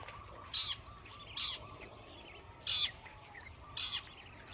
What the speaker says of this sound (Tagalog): Yan ang ibon.